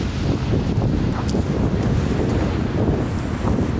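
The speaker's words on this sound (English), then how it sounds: "Oh, so much wind right now." Strong outdoor wind buffets the microphone, producing a heavy, continuous low rumble and roar with no break, loud and close.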